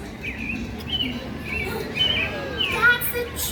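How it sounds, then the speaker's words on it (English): A bird chirps during a Sesame Street stage show at Sesame Place in Philadelphia: a few thin, high tweets scattered over a constant background hum. "That's a chirping bird."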